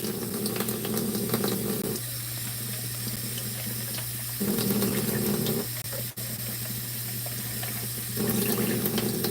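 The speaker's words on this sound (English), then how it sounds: "you want to leave the water running for a while" Tap water runs steadily into a sink, a broad hiss that stops and starts twice as the flow is switched on and off, with a constant low hum beneath.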